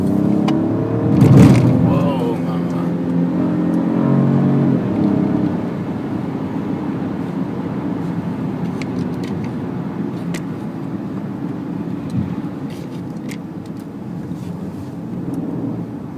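A Peugeot 2008 compact SUV drives on wet roads, its steady engine and road hum running throughout with a brief louder rev early on, while someone talks over it.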